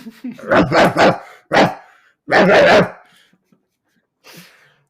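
A man imitates a dog barking with his voice, giving several loud, close bark-like shouts in quick bursts, then a fainter one after a pause.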